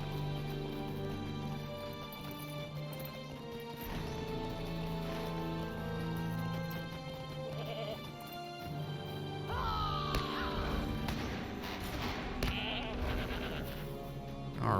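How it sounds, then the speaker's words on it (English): Goat bleating in the video game LOTRO (The Lord of the Rings Online), a few bleats rising over steady game music and ambient background, no voices. "Could have sworn I heard a goat."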